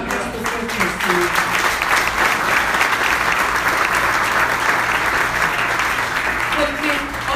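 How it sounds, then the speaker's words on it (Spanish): A church congregation at a regional fellowship service claps loudly and steadily for several seconds, a dense wash of hands with a faint voice or music underneath. "Un aplauso fuerte al Señor"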